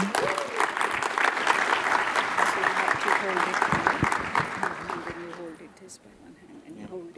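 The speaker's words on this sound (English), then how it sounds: "give them a round of applause" Audience applause at a cybersecurity business event, loud sustained clapping from a room full of people with voices talking over it, fading out toward the end.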